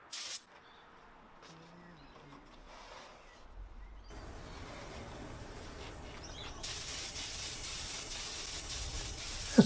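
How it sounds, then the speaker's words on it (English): A spray gun hisses as it sprays finish onto a wooden drawer, a steady airy hiss that grows louder and then turns into a strong, close broadband rush near the end. "And they're spraying it up."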